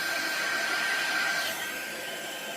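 A heat tool blows steadily while it melts embossing ink on a card, giving a continuous whooshing fan-and-air hiss with a faint high whine that eases off slightly toward the end.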